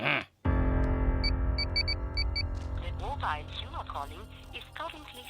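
A phone line plays a short electronic chime and a recorded automated message saying the phone is switched off, steady and close, with a brief pause before it starts.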